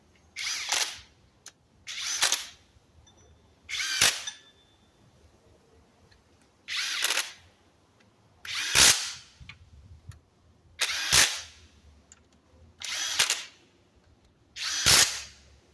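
A power tool snugs the 12 mm timing cover bolts on a Toyota 2AZ-FE 2.4-liter engine in eight short, sharp bursts separated by brief quiet gaps, close and loud.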